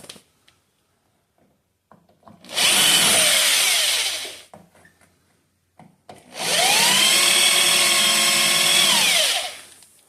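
A power drill whirs loudly in two long bursts of a couple of seconds each while drilling out slightly undersized spots during a 1968 Charger body swap, with faint knocks and quiet pauses between them.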